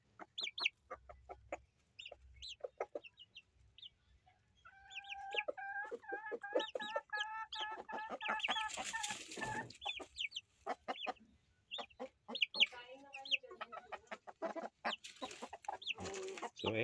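Hens cluck and squawk inside a screened chicken coop, close up and repeating in irregular bursts, with some drawn-out calls in the middle and a scratchy rustle at times.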